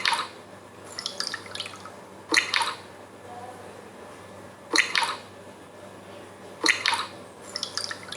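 Water poured into a glass beaker for a chemistry demonstration comes in several short splashy bursts separated by quiet pauses, close and moderately loud.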